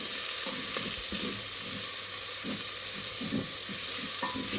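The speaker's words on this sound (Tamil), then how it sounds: "தக்காளி சேர்த்துட்டு ஒரு 3-4 நிமிஷம் நல்லா வதக்கி விட்டுக்கோங்க." Chopped tomato sautéing in a pan for a village-style mutton curry: a continuous hiss of frying with intermittent spatula stirs and scrapes, heard up close and without talk.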